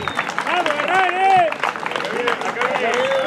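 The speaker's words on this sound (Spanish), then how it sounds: "¡Vamos, fuerte el aplauso!" Crowd applause and cheering at a horse riding festival in Flores, with shouting voices and clapping mixed together, loud and close, under an announcer's voice.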